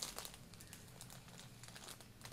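A plastic bag of dried chamomile flowers is handled up close, giving steady soft crinkling and rustling throughout, quiet and without any talking.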